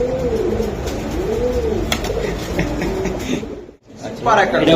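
Racing pigeons coo repeatedly up close, rounded rising-and-falling calls in a rhythmic series over a busy background. A voice is heard at the end.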